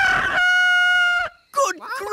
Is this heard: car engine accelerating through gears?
no